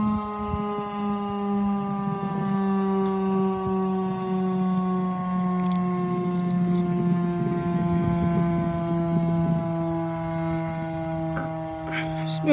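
Tornado siren wailing loud and steady with sustained harmonic tones, while gusting wind rumbles underneath throughout.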